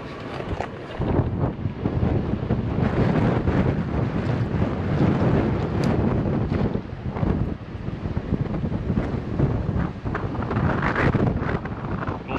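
Strong wind buffets the microphone outdoors in Tasmania, a loud, steady roar with rough gusty swells that holds for the whole stretch with no voices.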